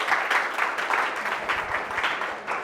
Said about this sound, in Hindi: आइए जोरदार ताली हो जाए